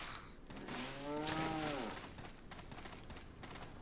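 A cow in the Resident Evil 4 video game gives one drawn-out moo of about a second, moderately loud, over rapid game gunfire clatter and background noise.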